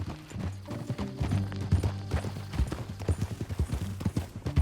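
Horse hooves clip-clop steadily on the ground in the video game Red Dead Redemption 2, close and fairly quiet, in a quick rhythmic pattern with no talking.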